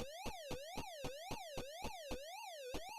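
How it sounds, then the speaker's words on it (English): Wailing electronic siren from a Pac-Man arcade game prototype, a bright buzzy tone sweeping up and down in quick regular cycles over steady ticking pulses, clean and alone. "The siren sound, you know"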